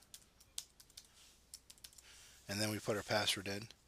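Fast clicks of a computer keyboard tap out a password during a SharePoint 2016 installation, a light close patter that gives way to someone speaking.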